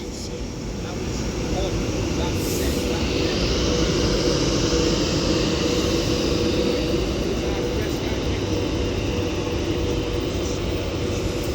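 An Avanti West Coast Class 390 Pendolino electric train pulls out of Stoke-on-Trent station, giving a steady, broad rumble and hum that builds after the first second and holds, with faint background noise around it.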